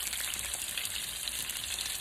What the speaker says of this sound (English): let it sit there and fry on the other side